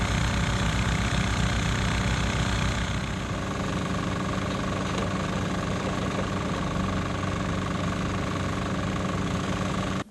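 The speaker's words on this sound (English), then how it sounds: "with our small pump and our large pump. We're waiting on the nozzle, but nevertheless it is doing something." Two water pumps, one small and one large, run steadily during excavation of a deep pit, a continuous loud mechanical drone with engine vibration that holds level throughout, no talking.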